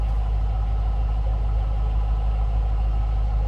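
A 2007 Ford Mustang Shelby GT V8 idles steadily, heard from the rear of the car, a deep, loud, even rumble with strong low-end throb and no revving.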